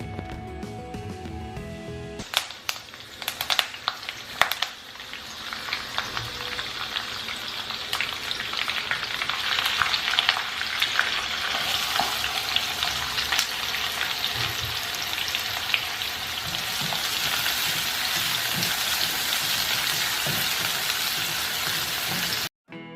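Loud, continuous sizzling of poha with peanuts frying in a hot pan with oil, mustard seeds and cumin, with occasional stirring and scraping sounds, steady throughout.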